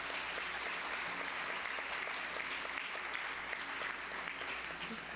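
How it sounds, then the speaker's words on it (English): Students at a National Honors Society induction ceremony applaud their parents, a full, continuous wash of clapping from a large room that holds steady for several seconds. "I'll ask right now if our students could please give a round of applause to your parents"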